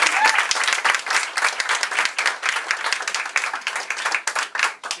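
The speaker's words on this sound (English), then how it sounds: "So I want everyone to give a big round of applause with you." Audience applause at a campaign event in a private home in Newton, a small crowd clapping steadily and close by for about five seconds, dense and lively throughout with no speech over it.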